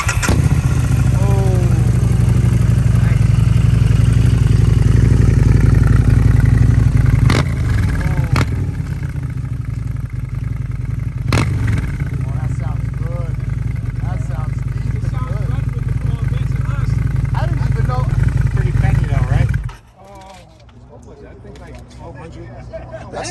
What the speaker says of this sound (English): V-Rod Night Rod Special